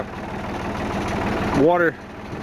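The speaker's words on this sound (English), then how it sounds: "This is a Massey Ferguson 431 tractor, and here we go." A Massey Ferguson 431 tractor idles close by with a steady, pulsing low chug throughout; a voice briefly speaks over the engine near the end.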